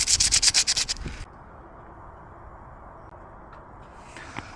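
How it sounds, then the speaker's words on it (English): Sandpaper is scrubbed rapidly back and forth over a Suzuki Jimny rear axle surface while a full-floater bearing upgrade is being installed. The burst of about eight close, raspy strokes stops abruptly, followed by faint scratches. "I'm going to get my bit of sandpaper and clean up all this surface here"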